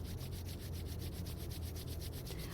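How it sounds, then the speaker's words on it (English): Palms rubbed briskly together during a qigong self-care session, a steady close dry friction hiss that runs unbroken for the whole stretch with no voices. "And now rub the hands together again."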